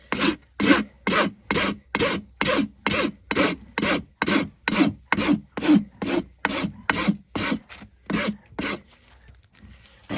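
A hoof rasp files an arthritic horse's foot during a trim, giving about twenty steady, even rasping strokes in a regular rhythm, close and clear, with no talk.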